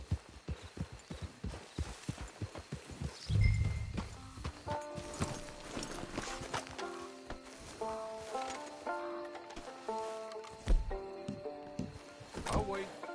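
Horse hooves clip-clop at a steady walking pace in a video game, loud and close for the first few seconds, then fading under game music with soft tonal notes.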